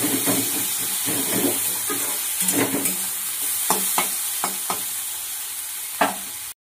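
Ingredients for Maggi noodles fry in a pan with a steady sizzle and hiss, broken by scraping stirs and sharp utensil clicks against the metal, loud and close with no talking.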